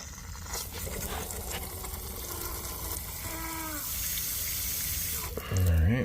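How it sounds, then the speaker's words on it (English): Water gushing steadily from an outdoor hose bib, a continuous close rushing flow that swells slightly toward the end, with people talking faintly in the background. "Alright, we got water here."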